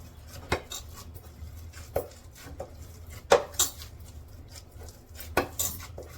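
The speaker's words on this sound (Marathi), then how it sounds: "बारीक करायचं मॅशर आहे याने असं छान बारीक करून घेते" Cooked dal for puran is mashed with a metal masher in a pot, giving scattered sharp metallic clinks and taps at an irregular pace over a quiet background, with no talking.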